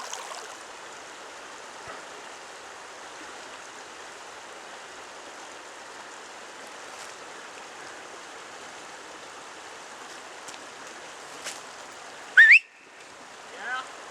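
The Bear River flows as a steady, broad rushing stream close by, with a brief sharp whistle-like sound and a clunk near the end.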